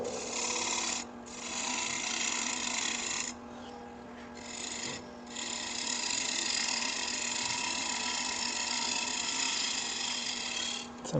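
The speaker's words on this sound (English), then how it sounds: "And we're going to drill a hole." Steady, loud whirring of a drill boring into wood on a lathe, running almost continuously with two brief pauses, a rough rasping texture throughout.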